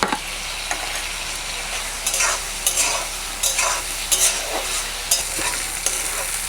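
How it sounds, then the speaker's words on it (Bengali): Prawns coated in turmeric fry in a pan, crackling and sizzling under regular stirring strokes that scrape every second or so, close and fairly loud, with no one speaking. "চিংড়ি মাছগুলো খুব কড়া করে ভাজবো না, তাহলে শক্ত হয়ে যাবে।"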